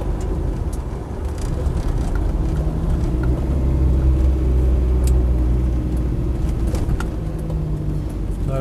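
A Land Rover Defender 90 300Tdi hardtop on road tyres drives along with a steady, loud diesel drone and low cabin rumble heard from inside, with faint rattles and little tyre roar; nobody speaks.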